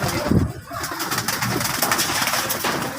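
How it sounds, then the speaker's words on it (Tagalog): Female breeding pigeons coo repeatedly in low, throaty bursts, several birds close by, over a steady background hiss. "Ito yung mga breed na babaeng ibon niya."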